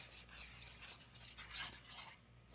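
Whisk stirring milk into a skillet of sauce on the stove, a soft continuous swishing and scraping with faint clinks of metal against the pan, steady and close, no voices.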